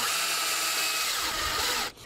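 A power drill whirs steadily, pre-drilling a hole in thin fence wood for about two seconds, then cuts off abruptly.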